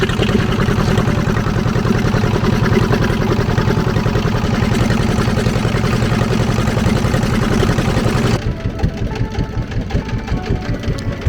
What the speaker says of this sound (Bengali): ইঞ্জিন চালিত নৌকা যখন আসে তখন আর ঢেউ আরো বেড়ে যায়